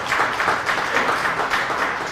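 A debate audience applauds steadily, a dense, continuous wash of many hands clapping at even loudness from start to finish with no talking over it.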